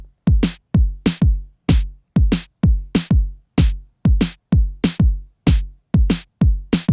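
Programmed drum beat with a steady four-on-the-floor kick drum and snare hits, evenly spaced punchy electronic drum strikes repeating loud and clear with no other sounds.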